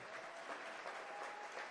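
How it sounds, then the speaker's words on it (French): Audience applause at a live African and islands day event, steady, even clapping from a moderately sized crowd, heard at a distance and fairly soft, with no voices over it. "On peut applaudir ça?"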